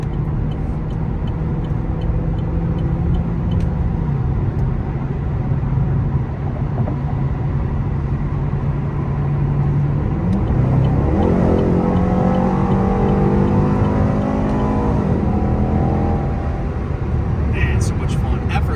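From inside a 2015 Chevrolet SS, a low engine drone and road noise build as the car accelerates from about 50 to 90, with the engine note rising clearly in the second half. A voice is faintly present.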